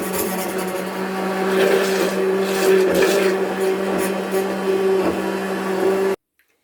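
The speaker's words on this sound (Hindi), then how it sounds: "अब मैं इसको हैंड मिक्सी से ही इसको ब्लेंड कर लूँगी अच्छे से" A hand blender whirs loudly and continuously for several seconds blending mint tea, with a steady motor hum, then cuts off abruptly into silence.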